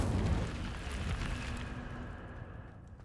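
A fire spell cast in the wizarding game Hogwarts Legacy gives a loud, roaring whoosh of flame with booming, crackling bursts that slowly fade over about three seconds, with no talking over it.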